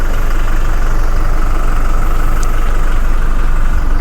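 Toyota Innova Reborn V automatic diesel, 2022, idling close up with a loud, steady, even engine rumble and a faint diesel knock throughout, no voices.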